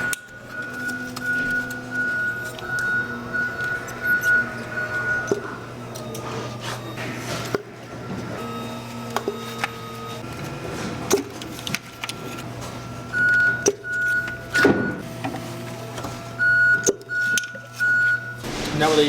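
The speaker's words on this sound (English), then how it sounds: "now we're gonna lift the ignition coils out of the cylinder head" Ignition coils lifted out of the cylinder head of a BMW E90 during spark plug work: scattered close plastic clicks and light metallic clinks with short pauses, over a faint steady hum.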